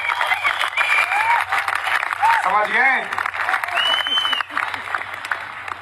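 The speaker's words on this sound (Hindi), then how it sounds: "ताली ऐसी बजाओ कि अगला जन्म आपको ताली बजाने के लिए न लेना पड़े" Audience clapping at a direct selling seminar, sustained applause running throughout while a speaker talks over it.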